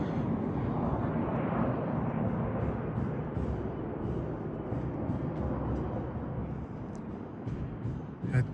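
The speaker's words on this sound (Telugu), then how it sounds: "ఇప్పుడు మరి కొద్దిసేపట్లో ఒక ఫ్లైట్ అయితే ల్యాండ్ అవ్వబోతుంది" A plane landing on a high-altitude runway in Ladakh gives a loud, steady broadband engine roar that holds throughout with no pauses.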